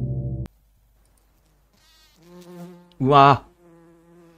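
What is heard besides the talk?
flies buzzing in horror video game Lucy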